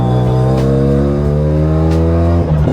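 Rotary 13B PP-port engine swapped into a Mazda 2 with an MR2 gearbox revs hard and steady near the mic, a loud buzzing drone rich in harmonics that stumbles briefly near the end.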